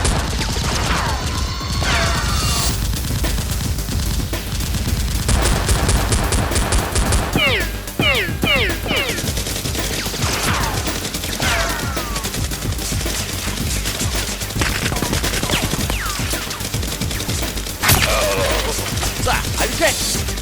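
Dense, loud gunfire in a Nerf war video game, with rapid machine-gun bursts, single shots and crashes running almost without a break, over a busy game soundtrack.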